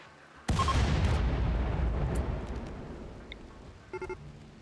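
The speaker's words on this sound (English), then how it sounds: "Unfortunately, I have a coastal artillery battery, and I'm not afraid to use it." A coastal artillery battery fires in RimWorld: one sudden heavy boom that rolls and fades over several seconds, followed by a few short faint clicks, with no talk over it.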